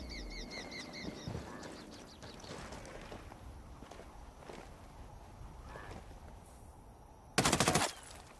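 Gunfire from the video game Ghost Recon Wildlands during a robbery scene: a quiet, tense stretch with faint tones ends in a sudden, loud short burst of shots.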